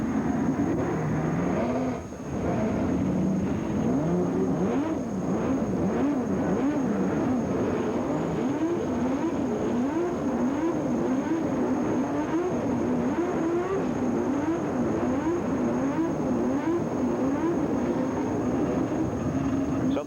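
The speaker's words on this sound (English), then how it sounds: "Now 22 cars have started their engines and they're ready for this 200 miles." Twenty-two 1983 CART IndyCar race cars idle and blip their engines on the grid before the Atlanta 200, a dense, continuous mechanical drone with rising and falling revs throughout, while an announcer talks over it.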